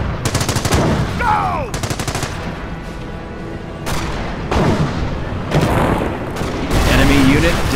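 Bursts of machine-gun fire and heavy booms in the video game Company of Heroes come in loud, repeated clusters, with shouted voice lines mixed in between.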